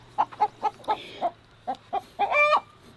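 A broody hen just lifted off her eggs on a North Carolina homestead gives a run of sharp, indignant clucks, about ten close-up squawks in an uneven rhythm that bunch into a longer agitated burst near the end.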